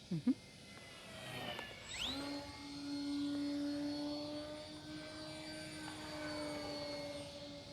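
An XFly GlaStar radio-controlled model airplane whines overhead, its electric motor pitch sweeping up sharply then holding a steady faint drone as it passes and recedes.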